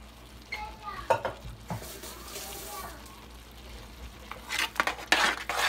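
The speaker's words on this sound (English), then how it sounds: "Stir that up." Onions and bell peppers are stirred with a four cheese sauce in a hot pan, producing a wet sizzle with scraping strokes and light clinks. A voice is briefly heard, and the stirring grows louder and busier toward the end.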